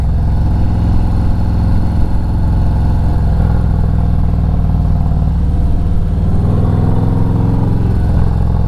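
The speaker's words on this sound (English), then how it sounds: "the pipes, the tab mufflers, sound a little bit richer now as well" A 2020 Harley-Davidson Electra Glide with tab mufflers, freshly performance tuned, rumbles loudly and steadily at close range throughout, with a deep, even exhaust tone.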